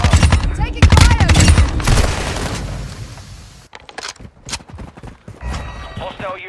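Rapid automatic gunfire from a Modern Warfare 2 Hardpoint match on Koro Village, likely a TR-76 Geist rifle, loud bursts dense at first then thinning into scattered shots and game radio voices.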